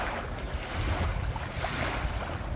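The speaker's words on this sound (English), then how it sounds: "Are these waves more your style, Missy?" Ocean waves wash steadily onto a beach strewn with driftwood, a continuous rolling surf roar mixed with gusty wind buffeting the microphone.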